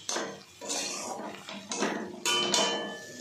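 A spoon scraping and clattering against a metal pan while prawns and spinach are stirred together, loud close bursts of rattling stirs in a steady rhythm, no voices.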